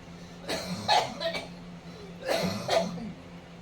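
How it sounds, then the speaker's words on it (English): Two bursts of coughing, each a quick cluster of harsh rasping hacks, close by, with a short pause between them. "Coughing."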